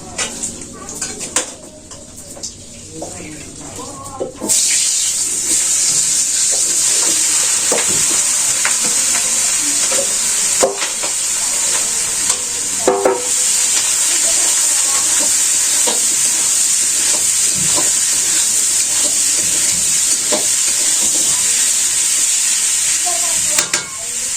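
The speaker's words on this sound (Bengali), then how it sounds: "তো আমি এখন মাংসগুলো দিয়ে ভালো করে কষে নিই" Mutton and chicken stir-fried in a pan, a loud steady sizzle that starts a few seconds in after a quieter opening, with intermittent clinks and scrapes of a spoon against the pan.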